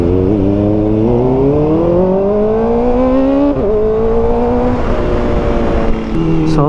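A Kawasaki ZX4RR motorcycle's exhaust, with stock headers giving a trumpet-like tone, a loud, close, sustained engine drone whose pitch climbs steadily through revs, with a brief dip near the end.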